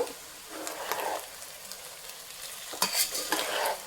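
Baby corn fried rice stirred in a frying pan, with soft scraping and light sizzling in bursts near the start and again toward the end, close and fairly quiet, no talk.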